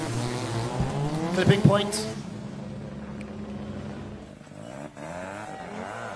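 Drift cars battling at a drift competition, including a turbocharged Mazda RX7 with a 13B rotary engine, engines revving and tires squealing loudly up close, then fading to a steadier roar, with an excited announcer talking throughout.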